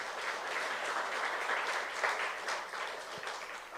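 Members of a young adults' church congregation clap together during a sermon, a dense, sustained burst of applause at moderate level with no voices over it.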